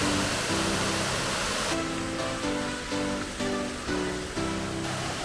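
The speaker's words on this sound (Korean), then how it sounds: "바로 이어진 마지막 폭포도 예사롭지 않군요." A waterfall on a pine forest hiking trail in the Daegwallyeong pine woods, a steady broadband rush of falling water with background music layered over it.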